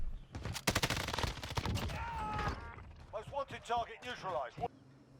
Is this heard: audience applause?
no